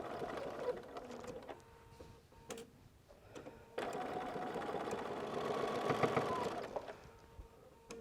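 A sewing machine runs in bursts, stitching the side seam of a quilted bag near the edge, its rapid mechanical whir stopping and restarting, then holding a longer, louder steady run.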